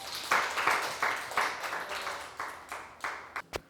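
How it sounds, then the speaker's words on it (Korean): Audience applause for the next student presenter at a youth policy proposal contest in Yeoncheon, a scattered run of hand claps at moderate distance with a sharp clap near the end and no talking. "박수 부탁드립니다"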